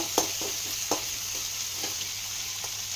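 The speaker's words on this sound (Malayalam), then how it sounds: "ചെറുതായിട്ട് ഇങ്ങനെ വഴറ്റി കൊടുക്കാൻ മതി." Chopped ginger, garlic and green chilli sauté in oil in a pan for a lemon pickle, a soft steady sizzle with a few scraping stirs close by and no voices.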